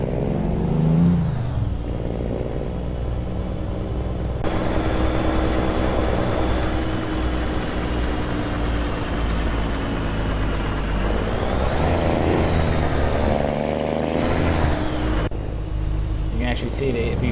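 A Western Star 4900 truck's roughly 600-horsepower engine in American Truck Simulator drones steadily and loud throughout, with a brief air-brake hiss near the start and shifting pitch as it pulls, under a voice.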